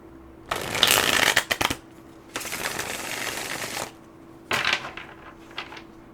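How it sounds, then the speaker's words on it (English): Tarot cards are shuffled by hand in three separate riffling bursts, each a close, crisp flutter of card edges with short quiet gaps between them. "I'll try to shuffle up here so you can see me shuffling."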